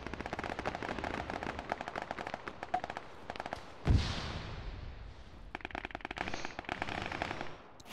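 Rapid gunfire in the military shooter Arma 3, sharp reports in quick bursts with one loud nearby blast in the middle and more shots trailing after, no talking.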